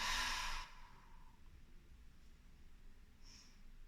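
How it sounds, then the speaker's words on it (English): A loud breath, likely an exhale, during a seated yoga twist fills the first half second, followed by quiet room tone with faint breathing and a short soft hiss near the end. "Breathe in, breathe out, look out."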